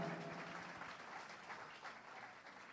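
Congregation applause in a Baptist church in Timóteo: a continuous, even wash of many people clapping, somewhat distant and moderately soft, with no speech over it.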